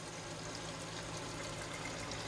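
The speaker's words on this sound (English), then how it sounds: "Now I'm flushing it with hot water." Hot water flushes steadily down an RV kitchen sink drain, a constant soft rushing hiss without pauses or voices.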